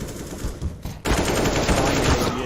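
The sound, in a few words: AK rifle spraying gunfire in video game CS:GO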